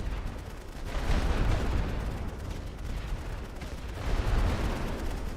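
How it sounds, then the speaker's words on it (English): Artillery barrages in the WWI trench shooter The Great War: Western Front, a continuous loud rumble of booming shell fire and crackling gunfire with two heavier surges of impacts. "Let's drop some artillery on them."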